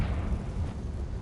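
Spell explosion from Confringo in the video game Hogwarts Legacy: a single low, rumbling blast that swells and sustains with a dull roar, fairly quiet overall.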